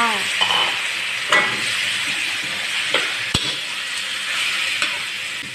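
Pork is stir-fried in a pan with coriander root, garlic and pepper for braised eggs, giving a steady close sizzle with repeated scraping strokes and a few sharp metallic clacks of the spatula.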